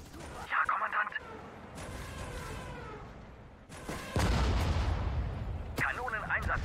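Artillery fire in the WWII strategy game Sudden Strike 4: rumbling gun blasts and crackling impacts build into a loud, sustained barrage in the second half, with bursts of German voice commands over the battle din.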